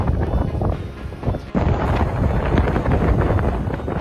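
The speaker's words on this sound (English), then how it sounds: "Powerful blizzards can produce wind gusts exceeding 60 miles per hour, strong enough to whip snow into towering white walls." Blizzard wind gusts roar loudly and steadily, buffeting the microphone with a dense rushing blast that briefly drops and then surges back.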